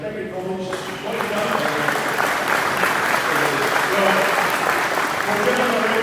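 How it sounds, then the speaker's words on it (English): Audience at a talk on methodology and performance culture breaks into sustained applause, starting after a brief spoken moment and settling into an even, dense clapping that holds through to the end. "We'll give them a round of applause before we start"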